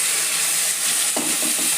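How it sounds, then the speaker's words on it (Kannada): Tomatoes sizzling steadily in hot oil for a pea and potato kurma, a loud continuous fry with a few scraping stirs of the spoon near the end, close and without talk. "ಟೊಮೆಟೊ ಅಷ್ಟು ಹುರ್ಕೋಬೇಕ್ರಿ. ಎಣ್ಣೆಗೆ"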